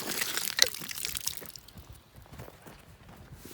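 Cold water from a yard water line splashes and runs briefly, louder at the start then fading to soft trickling and dripping.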